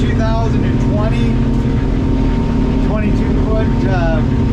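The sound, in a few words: 2020 North River 22-foot fastback boat engine running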